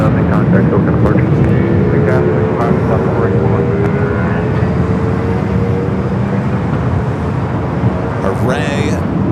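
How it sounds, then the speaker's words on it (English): A Delta airliner at LAX, on a nonstop flight to Chicago O'Hare, gives off a steady, loud broadband roar with a slowly falling tonal whine running through it, continuous for the whole stretch. "Brand new flight. Delta from LAX, officially back at O'Hare."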